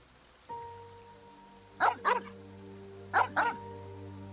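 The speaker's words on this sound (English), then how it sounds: "Is that the same dog I saw earlier?" A dog in Genshin Impact barks twice in quick pairs, two close double barks spaced about a second apart, set over a faint steady tonal hum.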